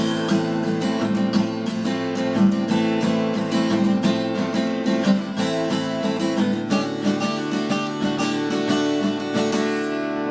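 Guitar chords ring out continuously, a strummed progression with dense harmonics and steady, moderately loud sustain, no voices.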